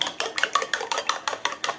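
Eggs being whisked in a bowl, a quick steady run of about ten sharp clinking strokes of utensil against the bowl, close and alone.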